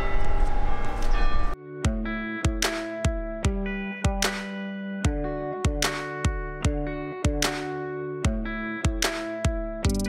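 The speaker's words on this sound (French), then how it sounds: "Et là écoutez, on entend le carillon." Carillon bells ring out from the belfry in Bruges in a steady melodic sequence of bright, resonant strikes, loud and close, following a brief burst of rushing noise at the start, in rainy weather.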